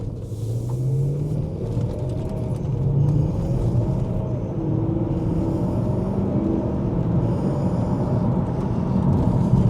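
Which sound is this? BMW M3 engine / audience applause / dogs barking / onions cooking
BMW M3 engine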